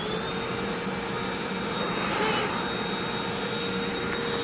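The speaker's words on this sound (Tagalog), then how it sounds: "Vacuum na tayo ngayon." A cordless wireless vacuum cleaner runs steadily throughout, a continuous whirring motor hum with a faint high whine, near and fairly loud with no talking over it.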